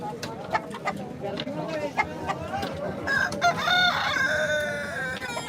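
Rooster crowing with clucking hens, pigeons and other birds at a weekly goat market in Tungwali, amid a busy crowd of voices; the crow rises loudly near the end.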